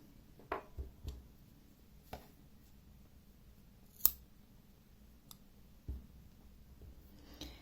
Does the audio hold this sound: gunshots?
no